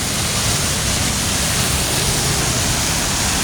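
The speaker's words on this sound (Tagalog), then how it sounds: "Walang humpay na buhos ng ulan." Heavy rain from Typhoon Enteng pours without letup in a dense, loud, continuous roar, with no voices over it.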